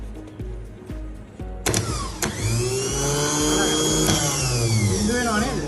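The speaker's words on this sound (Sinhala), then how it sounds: "වෝල්ට් මීටරේ පාඨාංකය අන්න ස්ටාර්ට් සිග්නල් එක මම දෙනවා බලන්න" Car starter motor cranking during a start-signal test: a loud, close whirring whine that rises in pitch and holds steady, with a few sharp clicks near its start.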